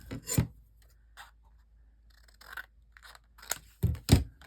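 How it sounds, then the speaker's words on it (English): Scissors snip through paper for handmade cards, with a few crisp, close cuts and soft rustling between them in a quiet room. "Okay, so I'm going to cut that right about there."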